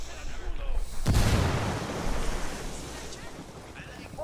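A frag grenade explodes in the video game Ghost Recon Wildlands, one sudden loud blast that rolls into a long, wide rumble and slowly dies away.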